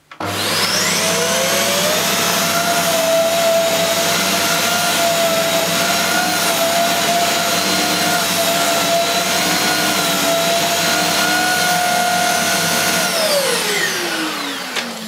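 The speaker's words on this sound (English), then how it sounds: "Not many Dyson cleaners are whisper quiet." A Dyson Cinetic Big Ball Animal canister vacuum cleaner runs with a loud, steady whirring whine for about thirteen seconds, then winds down as it is switched off near the end.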